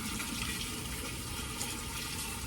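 Running tap water splashing steadily into a sink while hands are washed in a home kitchen during bread baking, a continuous close, even rush with no talk.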